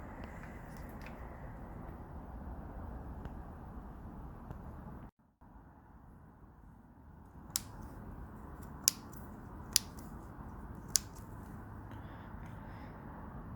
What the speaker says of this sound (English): Time to click them in.